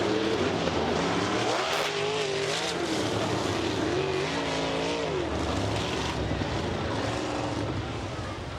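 Sprint cars racing on a track, a loud continuous engine roar with shifting pitch as cars pass and overlap, sustained throughout at high volume.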